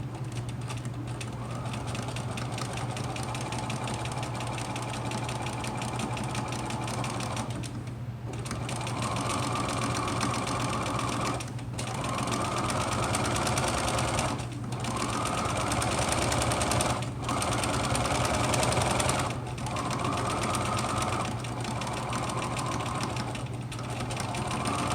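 A sewing machine stitches fabric pieces for a face mask, running in steady bursts separated by short pauses, a continuous mechanical whir with a low hum underneath, moderately close and free of talk.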